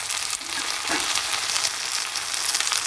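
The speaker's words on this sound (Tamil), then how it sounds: "இப்போ நாங்கள் கட் பண்ணி வச்சுருந்த பீன்ஸை சேர்ப்போம் தாளியத்துக்குள்ளே" Cut green beans sizzle steadily in hot oil with a garlic tempering for a Tamil-style beans curry, a loud continuous crackling fry with a brief stirring rustle near the start and no voices.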